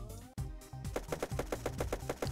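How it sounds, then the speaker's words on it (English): Rapid, evenly spaced gunshots ring out from a Christmas-themed shooter video game, following a single sharp shot and a short pause, with the bursts loud and close. "Oh no, I hear more gunshots."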